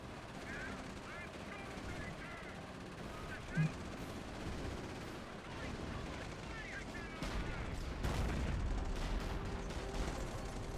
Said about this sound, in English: Dropping another howitzer, only a lot closer to my base.